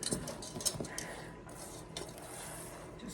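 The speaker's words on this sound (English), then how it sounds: "Just give it a good stir" A spoon scrapes and knocks against a bowl while stirring brownie pecan pie batter, with soft rubbing strokes and a few clinks up close and no voices.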